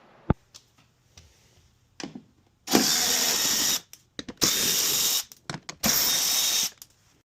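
A ratchet backs 7mm screws out of the lower fender flare on a Ford Raptor, giving three bursts of fast clicking, each about a second long, with shorter clicks and taps between them, close and clear with no talking.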